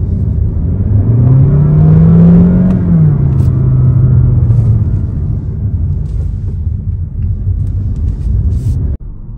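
A 2022 Honda HR-V engine roars loudly as it accelerates hard, the pitch climbing then easing off into a steady, heavy drone with no talking.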